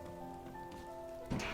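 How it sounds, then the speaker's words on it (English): Rain falls steadily in the video game Night in the Woods, a constant soft hiss over tonal in-game ambience, with a brief louder burst near the end. "Oh, it is raining like that one person said."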